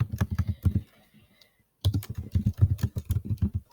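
Typing on a computer keyboard into a text box, rapid clustered key clicks in two bursts separated by a short pause, close and clear with no talk.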